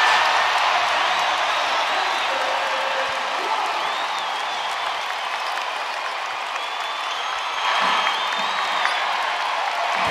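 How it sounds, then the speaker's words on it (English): Basketball crowd at Gainbridge Fieldhouse in an indoor arena roars and cheers steadily, with applause and scattered whoops forming a dense, continuous wash that swells slightly near the end. "Crowd coming alive at Gainbridge Fieldhouse."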